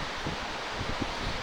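Steady wind blows across a hiking trail along Alum Creek in Audra State Park, West Virginia, a continuous moderate rushing buffet against the microphone with faint leafy rustling and no voices.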